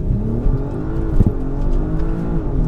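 An Audi RS5 accelerates hard, its engine pulling with a deep, loud rising roar heard from inside the car, with a brief surge midway.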